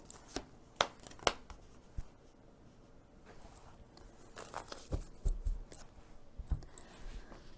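Tarot cards shuffled and drawn from a deck, heard as a few sharp papery snaps and flicks near the start, then a quieter stretch of soft sliding and rustling with more card slaps toward the end, close up and with no talking.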